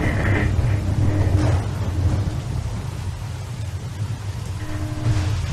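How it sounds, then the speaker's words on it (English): Heavy rain pours with low thunder rumbling in The Walking Dead video game, a dense steady hiss under deep rolling booms, with no voices. "It really is raining, isn't it?"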